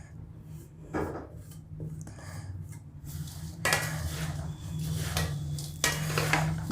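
A spoon scrapes and clinks against a pan while flattened rice is stirred with oil and powdered sugar for Mysore avalakki, giving a series of close, irregular scraping strokes over a faint steady hum.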